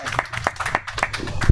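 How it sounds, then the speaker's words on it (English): Brief audience applause welcoming Mr. Chai at a Bali health event, a short scatter of separate claps from a small crowd, spaced and uneven rather than a dense ovation. "Round of applause please for Mr. Chai"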